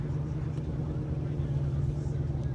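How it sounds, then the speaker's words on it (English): A wide-body Hellcat pulls away from a Huntington Beach car meet with a steady, deep exhaust rumble that stays loud and even throughout. "We got a wide body Hellcat leaving."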